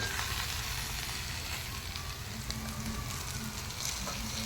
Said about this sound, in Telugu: ఇదైతే చక్కగా అంతా వేగిపోయిందండి.